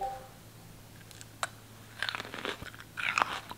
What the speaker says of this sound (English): listen to this ASMR crunch